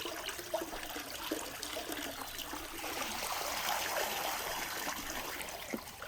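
Water from a tap runs steadily over lamb meat as it is washed and rinsed, a continuous close splashing trickle with small shifts in flow and a brief knock near the end.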